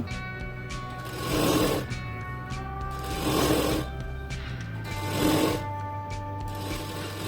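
A sewing machine stitches a folded fabric strip for a saree blouse back-neck design, running in three short, evenly spaced bursts over a steady background hum, with no talking.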